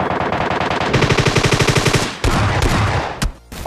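Rapid automatic gunfire in the mobile game PUBG Mobile Lite, a fast loud burst of evenly spaced shots followed by a few more scattered shots and bursts, with no talking.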